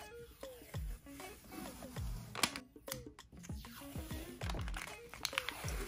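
Protective film peeled off an acrylic sign gives crinkling, crackling tears and sharp snaps in irregular bursts, close and fairly quiet.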